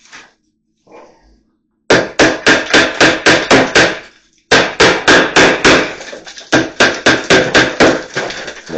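A nail punch hammered into wood, loud sharp hammer strikes in rapid rhythmic bursts of about seven or eight blows each, close up with brief pauses between sets.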